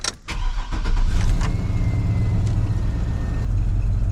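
A 2004 Chevrolet Silverado 2500HD work truck cranks briefly and fires up, settling into a loud, steady close-up idle with a low rumble that carries on to the end.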